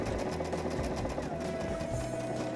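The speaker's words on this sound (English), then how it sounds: "I can go a little bit faster now and finish this line of sewing up" A sewing machine runs fast and steadily while stitching a line of sewing, its needle mechanism whirring in a close, continuous rhythm with no one talking.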